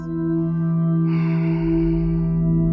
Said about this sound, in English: when you exhale through the nose with a little bit of constriction,